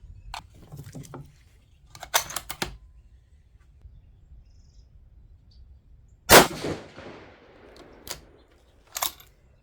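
Several sharp 6mm ARC rifle shots fired with Hornady 100gr Interlock loads, loud reports spaced a few seconds apart, each with a short ringing decay and a faint metallic clang, outdoors at a range with no talking.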